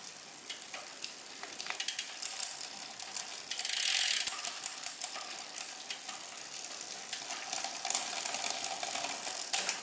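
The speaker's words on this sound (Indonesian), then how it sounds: "Ini contohnya seperti ini, saya putar. Nah, tuh dia akan pindah ke gigi selanjutnya." Mechanical bicycle rear derailleur clicking and shifting gears as the crank is turned by hand, with a rapid ratcheting freewheel tick and chain rattle throughout, one brief louder burst of chain noise midway, close and fairly quiet.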